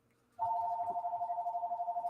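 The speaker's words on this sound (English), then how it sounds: "I got a phone ringing." A phone rings in a steady electronic warble that starts abruptly and pulses quickly, moderately loud and close, with no talk.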